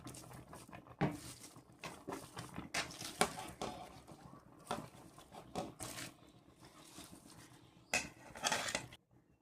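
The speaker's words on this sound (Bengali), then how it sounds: "এখন বাঁধাকপিগুলো দিয়ে দিলাম ডালে" Chopped cabbage goes into a pot of cooking lentils, making a series of soft pattering thuds and clinks of a spoon against the pot. The sounds are close and fairly quiet, coming in short irregular bursts.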